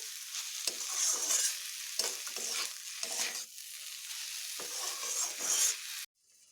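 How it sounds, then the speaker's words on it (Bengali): Arum leaves (kochu shak) fry in a hot pan, a steady sizzle broken by several scraping stirs in bursts before it cuts off near the end; no talking. "আরও একটু ভালোভাবে ভাজবো যেহেতু কচুর শাক সেই জন্য একটু টাইম দিয়ে ভাজতে হবে"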